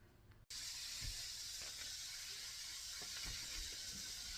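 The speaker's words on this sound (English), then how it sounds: "You can hear them sizzling" Steady, dense hiss of vegetables sizzling in hot oil in a pan after a brief dropout at the start, continuous and fairly close, with faint crackles.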